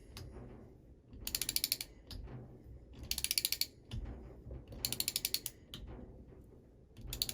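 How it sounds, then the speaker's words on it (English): A torque wrench ratchets while a plug is screwed into a heat exchanger tube, with three bursts of rapid, close clicking separated by quieter pauses and handling noise. "until the torque wrench clicks, indicating you've reached that recommended installation torque"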